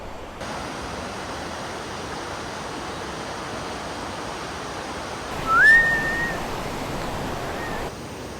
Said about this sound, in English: I don't even know if you can hear me because I'm right next to the river.